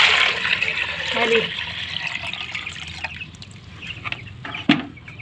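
Water is poured for chickens, a close trickling and splashing stream running under a voice that speaks over it.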